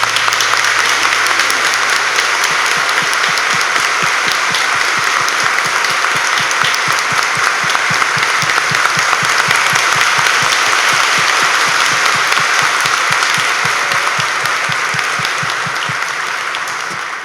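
A church congregation claps together in sustained applause, a dense even patter of many hands that holds steady throughout and eases slightly at the end, with no talking over it.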